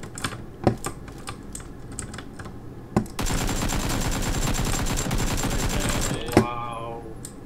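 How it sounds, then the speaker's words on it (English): Rapid automatic gunfire from the video game PUBG bursts in for about three seconds after scattered sharp clicks, loud and close, with faint game sounds around it. "Use your gun and shoot them."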